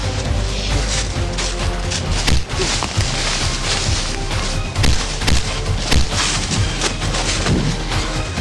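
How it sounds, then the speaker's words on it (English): Gunfire in a loud, dense scene, with repeated booming shots and thuds scattered unevenly over a continuous rumbling background. "A little gunfire."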